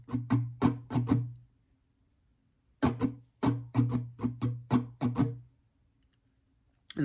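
Guitar strummed in quick rhythmic bursts, a short pattern, a pause, then a longer run of strums, all close and unaccompanied.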